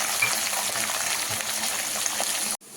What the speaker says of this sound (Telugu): అది ఫ్రై అవుతుండగా కడిగి చిక్కుడుకాయ వేసేసుకోవాలండి